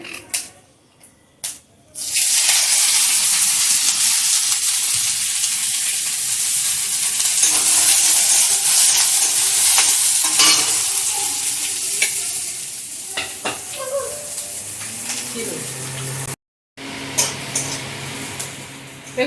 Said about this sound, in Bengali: পেঁয়াজটা অল্প ভাজা হয়েছে খুব বেশি ভাজা হয় না